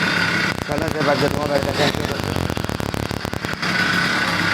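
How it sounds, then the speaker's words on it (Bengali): An 80cc engine fitted to a bicycle runs with a loud, rough, steady drone; someone talks over it through the middle before the engine noise dominates again. "আপনার স্টার্ট করে দেখানো হচ্ছে ইঞ্জিনটা।"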